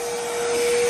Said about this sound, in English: That's just doing a bit more hoovering.